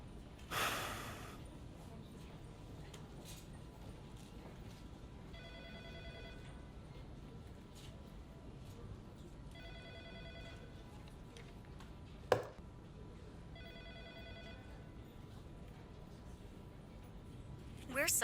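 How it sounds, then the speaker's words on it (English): An outgoing phone call rings faintly through the handset in three evenly spaced bursts of a repeated tone, with quiet background hiss between them and a single sharp click near the end. "The number you have dialed cannot be reached."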